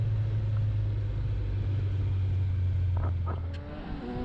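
A Kawasaki Z900 motorcycle engine, set up as an A2 Full+ model, drones in a steady low rumble that eases off toward the end, close and loud throughout.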